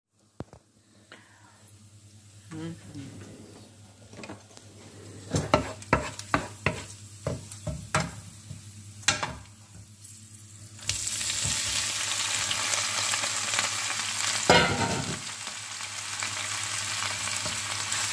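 Mushrooms cooking with garlic and oil in a frying pan: a burst of rapid utensil taps and clatters first, then a loud, dense, continuous sizzle swelling up and holding steady to the end.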